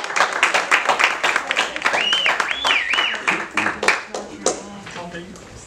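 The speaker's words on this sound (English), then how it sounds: "Just give him a round of applause" A small audience claps, scattered hand claps over several seconds with someone whistling and voices underneath.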